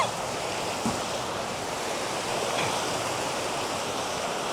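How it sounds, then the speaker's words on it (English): Rushing water at Tiffany Falls in Hamilton, Ontario, a steady, broad roar of the waterfall heard from nearby along a trail, constant and unbroken. "Hear that rush of water."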